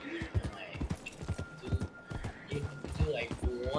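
Horse hooves clip-clop in an uneven walking rhythm in Red Dead Redemption 2, close and moderately loud, with a whinny-like sound and a person talking over it.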